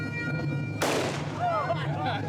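A single sharp blast rings out from an old-style firearm at a medieval festival in Belarus, cutting abruptly through the murmur of a crowd and decaying quickly, with voices and bustle continuing around it.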